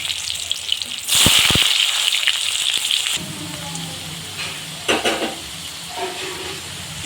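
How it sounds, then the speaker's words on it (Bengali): Potato pieces frying in hot oil in a pan for a traditional Bengali dish, a loud steady sizzle with bursts of crackle and stirring clatter, easing to quieter frying toward the end. "আলুটা দিয়ে ভেজে নিলাম।"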